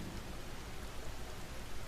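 Steady rain falling over a landscape, a dense, even hiss that holds at a constant level from start to finish with no pauses and no voices.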